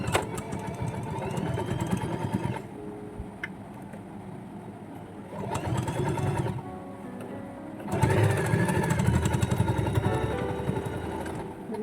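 A sewing machine stitching a fabric pencil pouch runs in several close bursts of rapid mechanical whirring, separated by short pauses where it quiets down, with the final burst loudest.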